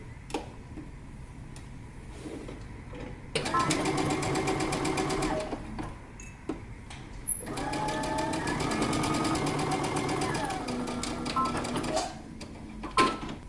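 A sewing machine stitches a dress seam in two long runs of rapid mechanical whirring and needle clatter, separated and bracketed by short pauses with clicks, close and loud.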